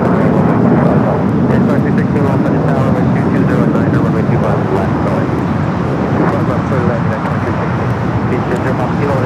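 Hawker Beechcraft 400A business jet taking off at LAX, bound for Salt Lake City: a loud, sustained engine roar, close and unbroken throughout, with voices talking over it.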